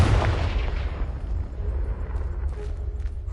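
A Confringo spell in Hogwarts Legacy bursts with a loud, deep boom at the very start, then a rumbling tail fades away over the next few seconds.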